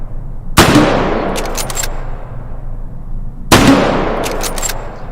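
Two loud, sharp gunshots fire about three seconds apart in the VR shooting game H3VR, each a sudden crack followed by a long decaying echo and small metallic clicks of the weapon in between.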